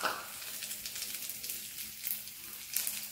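Dried red chillies fry in hot oil for spicy chicken kondattam, a soft, steady crackling sizzle with faint pops rising now and then.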